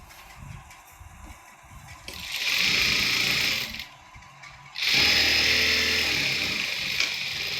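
A sewing machine runs in two loud continuous bursts while stitching a folded half-inch hem on a chudithar bottom, with quieter handling of fabric between runs.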